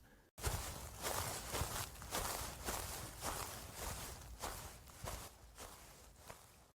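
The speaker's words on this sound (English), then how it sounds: "I heard footsteps that matched my own" Footsteps walk slowly along a woodland path, a regular series of soft, crunchy steps at a walking pace that stays fairly close throughout, with no talking.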